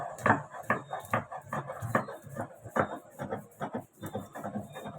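Roasted peanuts and mustard seeds being ground into paste on a grinding stone, heard as steady, close rhythmic scraping and rubbing strokes.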